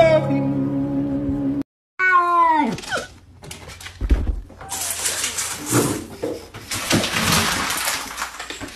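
A cat lets out a long, drawn-out meow that rises and bends, then a few shorter cries. Loud rustling and scuffling follow close by.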